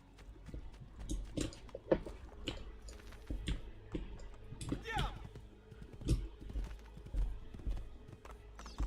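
Repeated hoofbeats in the video game Assassin's Creed 2 clip-clop at an irregular walking pace, with a brief horse whinny partway through.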